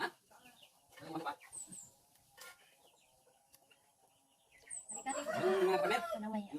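Bantam and native farm chickens cluck softly and sporadically in a quiet yard, with a person talking over the louder final seconds.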